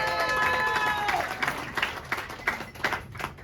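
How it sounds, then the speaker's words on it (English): An audience at a poetry reading gives a short burst of applause. Scattered claps thin out and fade quickly in an indoor room, with a little crowd murmur underneath. "Give him a particular big round of applause"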